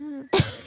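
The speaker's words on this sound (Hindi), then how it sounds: "मम्मा चिड़िया सारी रात खांसे जा रही थी।" A cartoon mother bird coughs once, a short harsh burst that is close and fairly loud, coming right after a brief tonal voice sound, with no speech.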